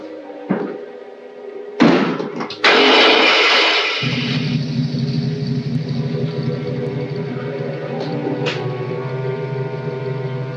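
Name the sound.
motor engine starting and running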